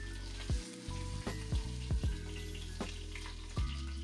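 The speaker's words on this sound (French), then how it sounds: "Dans une grande casserole avec une cuillère à soupe d'huile et à feu moyen, faire dorer la peau du jarret pour avoir plus de saveur." Pork hock skin browning in a spoonful of oil in a large pot over medium heat, a continuous loud sizzle and crackle with several sharp clanks of a utensil against the pot.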